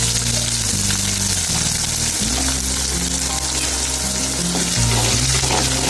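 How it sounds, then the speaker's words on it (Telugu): Ginger garlic paste fries loudly and close in a pan for a liver gravy curry, a dense continuous sizzle with a low steady hum underneath. "సో ఈ అల్లం వెల్లుల్లి పేస్ట్ పచ్చివాసన పోయేంత వరకు ఫ్రై చేసుకోవాలి ఫ్రెండ్స్."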